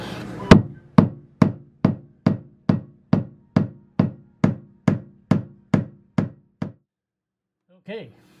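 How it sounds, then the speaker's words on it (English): A hammer strikes a soft metal boat fitting in a steady series of about fifteen sharp, ringing knocks at close range, then stops, followed by a brief voice. "My preferred tool of choice for whacking things is my dad's hammer"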